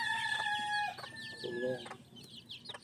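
Hungry young chicks peeping and clucking as they crowd together, with a hen or rooster calling among them; a steady, close chorus of chirps and clucks carries on without pause.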